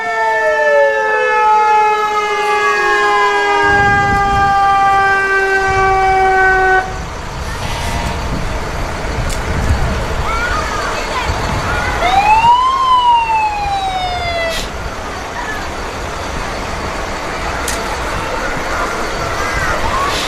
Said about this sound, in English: we will enjoy the siren music of, first off, the Paint Rock Fire Department.